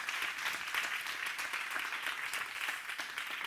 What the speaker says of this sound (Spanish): aplauso para ellas